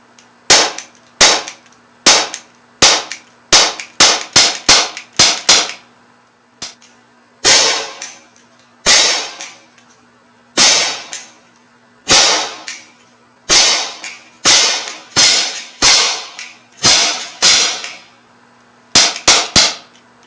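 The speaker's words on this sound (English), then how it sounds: "I'm gonna step back and unload this magazine into my trap" A Sig Sauer P365 .177 caliber air pistol empties its magazine into a pellet trap. Around thirty sharp, snappy pops come in quick bursts with brief pauses between groups, loud and close, with no talking.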